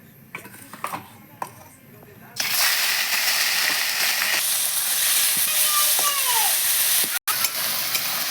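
Meat paste for a pointed gourd curry hits a hot pan and bursts into loud, steady sizzling that holds to the end, after quieter clinks and scraping of utensils.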